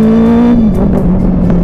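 A Benelli 600i four-cylinder sport bike engine drones loudly and close, a smooth steady hum that sags slightly in pitch partway through the short burst, alone without speech.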